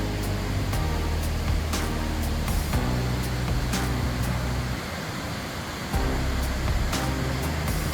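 Hongryong waterfall near a temple, a loud continuous roar of falling water heard up close, steady and broadband with a few brief louder splashes and knocks.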